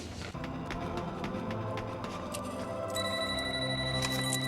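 A telephone rings in the video game No More Heroes, a quiet repeating electronic ring over soft in-game background tones, with a higher tone joining near the end.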